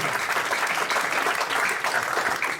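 Congregation applauding and cheering during a church sermon, a dense, steady wall of clapping from a large crowd filling the whole stretch at even loudness.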